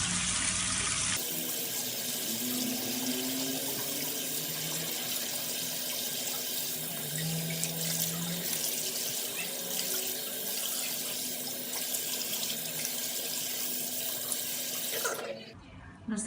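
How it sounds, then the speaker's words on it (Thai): Tap water runs steadily into a sink as a face is washed, a continuous close splashing stream that holds for about fifteen seconds before cutting off. "เดี๋ยวขอ อนุญาตล้างหน้าให้สะอาดก่อน"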